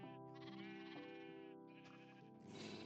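Sheep bleating in the Minecraft video game: a few quiet, wavering, nasal bleats one after another, clear and alone without talk.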